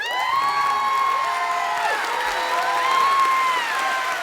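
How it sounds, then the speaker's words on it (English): A studio audience cheers and whoops with sliding, shouted voices over a constant crowd roar, loud and steady for the whole stretch, with little distinct clapping. "that is a lot of great applause."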